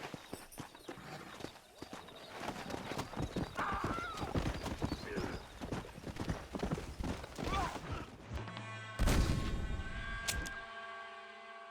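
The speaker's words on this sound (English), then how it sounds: "there's a pack of wild horses nearby" Wild horses in Red Dead Redemption gallop with rapid clip-clopping hooves, then a loud whinny near the end, with faint voices in the background.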